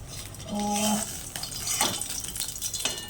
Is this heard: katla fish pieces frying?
yes